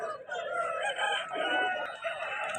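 Roosters crow over one another at a busy Vijayawada rooster market on the eve of the Sankranti festival, a dense, continuous chorus of loud, overlapping calls close by.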